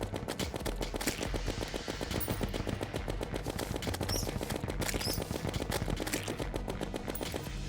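Rapid gunfire rattles in the video game Terraria, with dense, continuous bursts of shots in fast rhythmic succession, loud and sustained throughout.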